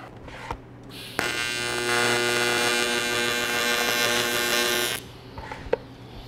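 A steady electric buzzing arc of TIG welding aluminum, with dense harmonic hum, runs for about four seconds, starting abruptly and cutting off sharply, with quiet pauses before and after.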